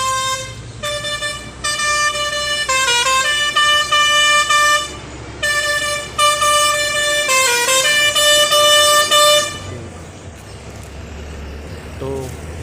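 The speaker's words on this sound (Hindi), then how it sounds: "तो भैया से रिक्वेस्ट किया, उन्होंने हॉर्न बजाना बंद किया।" Loud, sustained vehicle horn honking on a road trip, with repeated long blasts and short breaks between them, dominating the scene until it cuts off near the end, leaving engine rumble.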